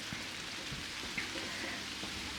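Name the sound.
rain falling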